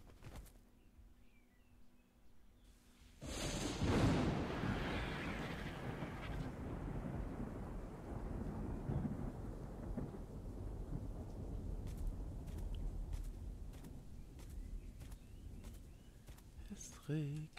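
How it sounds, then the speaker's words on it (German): A thunderstorm rolls through the video game ARK, with a loud rumble of thunder swelling early and then sustained heavy rain and wind noise continuing, with faint bird calls and clicks later. "Es regnet, es regnet."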